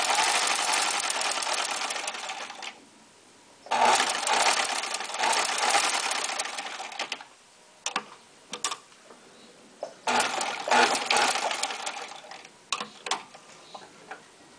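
A sewing machine stitching the crotch seams of fabric shorts runs in close bursts of steady whirring, stopping and restarting several times, with short ticking gaps between runs and no talking.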